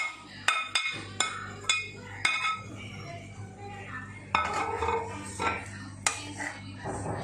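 A utensil clinks and scrapes against a pan as sautéed broccoli and capsicum are stirred into green Thai curry paste, with several sharp metallic taps close by over a low steady hum.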